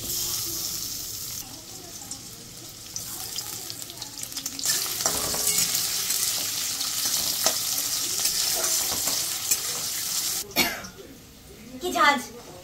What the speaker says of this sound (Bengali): সবার আগে আমি পেঁয়াজ আর কাঁচা লঙ্কাটা ভেজে নিচ্ছি